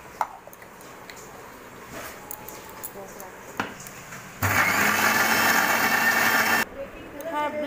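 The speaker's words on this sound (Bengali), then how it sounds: "আর এই আদা দুটোই ব্লেন্ড করে নিচ্ছি।" An electric blender grinds ginger with a splash of water in one loud, steady whir that lasts about two seconds. Before it, quieter kitchen clatter and faint background sounds can be heard.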